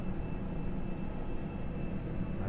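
Steady, low engine and ventilation drone inside an airplane cabin before takeoff, a constant muffled rumble with no talking.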